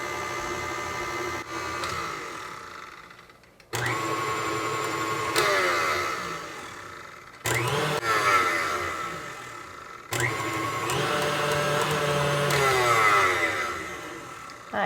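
A blender runs in several separate bursts while mixing keto pizza dough with fat. Each pulse is a loud, whirring motor roar lasting a few seconds, with abrupt starts and stops between them.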